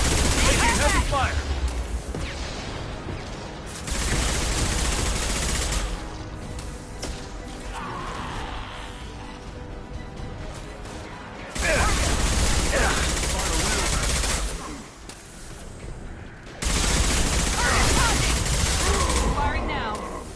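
Heavy gunfire during a Mass Effect battle, with loud bursts of rapid fire and crashing impacts in several stretches that drop to quieter pauses, while voices talk in between.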